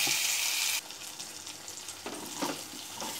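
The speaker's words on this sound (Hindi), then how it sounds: "यहाँ पर मैंने जो घी डाला था पैन में गर्म हो चुका है, तो इसमें मैं जो पीसा हुआ चना है उसे डाल दूँगी" Ground green chickpeas hit hot ghee in a pan with a loud, bright sizzle that drops to a steadier, softer frying hiss, with a few stirring scrapes near the end.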